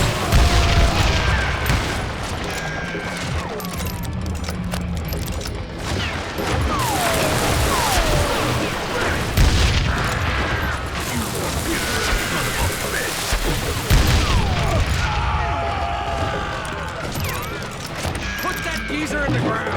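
Gunfire and booming blasts from the Western shooter game Call of Juarez Gunslinger, dense and continuous, with repeated loud shots and crashes layered over game voices shouting throughout.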